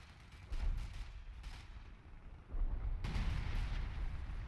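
An artillery barrage in the Battle for Caen war game, faint distant booms and rumbling that swell in two waves over a steady low roar.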